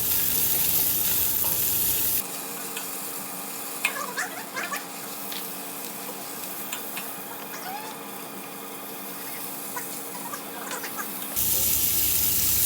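Ginger paste and white onion fry in a pan, a close sizzle with soft stirring and scraping that continues under a brief quieter stretch before the full sizzle returns.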